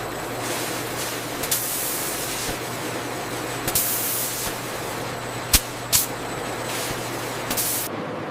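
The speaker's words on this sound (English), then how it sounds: "The larvae enter the seasoning drum, where a fine mist of savory salts and herbs is precisely applied" A seasoning drum sprays a fine mist of savory salts and herbs over fried dragonfly larvae, giving a continuous loud hiss with a few short sharp bursts of spray.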